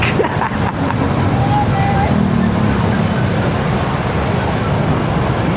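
Steady broadband roar of road traffic and wind heard from a Honda ADV350 scooter riding through congested streets of Valenzuela, Philippines, continuous and loud throughout without a break.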